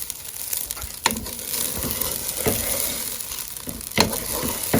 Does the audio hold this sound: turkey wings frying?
yes